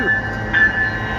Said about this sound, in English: The White Pass train. It's one of the most popular tourist attractions.